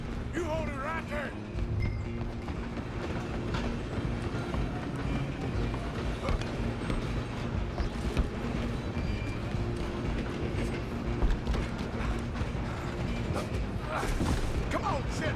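A train runs on rails in the Red Dead Redemption 2 video game, a loud continuous rumble and clatter that fills the whole stretch, with shouting voices heard over it.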